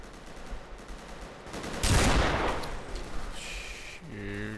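Gunfire in the video game Stalker, a loud burst of rapid shots near the middle over steady game ambience, trailing off into background noise with a faint tonal hum at the end.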